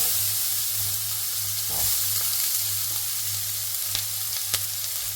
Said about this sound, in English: Make sure the oil is nice and hot. Now just adding one large onion that I've diced.